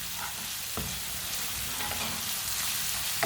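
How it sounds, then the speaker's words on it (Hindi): Masala spices fry in hot oil in a pan for dal and macaroni, making a dense, constant sizzle with a few soft stirring knocks. No one speaks. "1 मिनट तक पका लिया मैंने मसालों को।"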